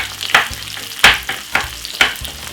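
Red and yellow peppers and onion frying in a pan, giving a steady close sizzle broken by four sharp bursts of stirring or ingredients dropping in, with no talking.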